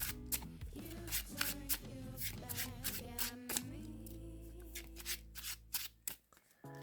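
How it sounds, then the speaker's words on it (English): Yu-Gi-Oh playing cards being shuffled by hand, a rapid series of crisp riffling bursts close up, with music playing underneath. "Then of course shuffle again."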